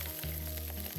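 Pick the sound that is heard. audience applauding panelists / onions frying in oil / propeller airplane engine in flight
onions frying in oil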